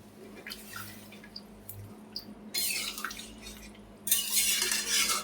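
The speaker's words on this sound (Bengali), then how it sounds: "মশলা কষা হয়ে গেছে, এবারে ওর মধ্যে জল দিয়ে দিচ্ছি।" Water is poured into a pan of cooked spice mix for a curry, heard as two close splashing pours, the second louder and longer, over a quiet kitchen background.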